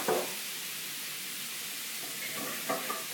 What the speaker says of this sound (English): I'm going to deglaze the pan with a little bit of Prosecco